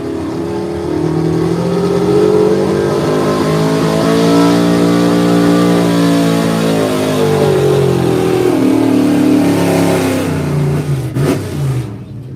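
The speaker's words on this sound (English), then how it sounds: "Mr. Perry there in the Expensive Penny Chevrolet is on the way." A Chevrolet pulling truck at a county truck and tractor pull revs hard under load, its engine note climbing and holding steady for several seconds before fading back, loud and continuous across the arena.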